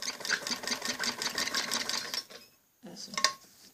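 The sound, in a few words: sewing machine stitching a kameez jacket neck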